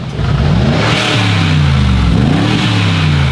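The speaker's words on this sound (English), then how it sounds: "Valves, give it a rev." A powerful full-carbon supercar engine with stock exhaust revs up hard and holds a loud, rising roar, with the pitch climbing and dipping through a couple of throttle blips.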